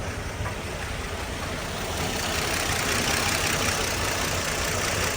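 A carbureted engine idles smoothly up close, a steady, unbroken mechanical hum with a dense, noisy texture and no pauses.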